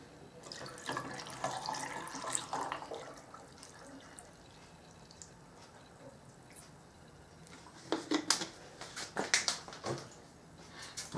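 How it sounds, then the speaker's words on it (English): Tap water running into a sink while testing Ozark Trail tumblers, a steady splashing flow with bursts of sharper clinks and splashes near the end. "I gotta get my water off."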